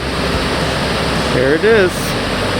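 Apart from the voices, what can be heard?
Jōren Falls waterfall on the Izu Peninsula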